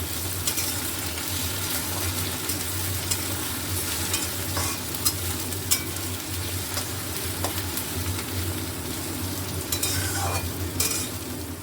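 Curry leaves dropped into frying onions crackle and sizzle steadily in a pan, with occasional stirring scrapes over a constant hiss, close and fairly loud throughout.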